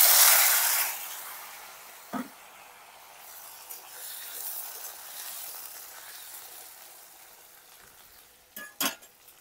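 Potatoes dropped into hot oil tempered with dried chilli and cumin, a loud hiss at first that settles into a softer sizzle, with a few sharp clinks of a spoon against the pan.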